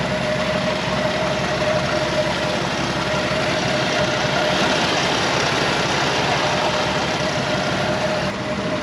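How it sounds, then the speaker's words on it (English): A 1976 Jeep CJ5 with a 258 cubic inch inline six engine idles steadily and smoothly at close range, a continuous loud rumble with no other sounds over it. "Idle's nice and smooth, no funny noises,"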